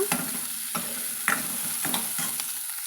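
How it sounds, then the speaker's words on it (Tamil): Onions fry in a hot pan for sundaivatral kuzhambu, sizzling steadily while a spoon scrapes and stirs in repeated close strokes every half second or so, with no talking. "இது நம்ம நல்லா வறுத்துட்டுக்கலாங்க வெங்காயத்தை"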